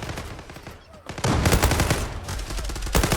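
Rapid automatic rifle fire from an FN FAL Pro in the online shooter Zula, a loud dense burst of repeated shots after a brief quieter lead-in, with a last cluster of shots near the end.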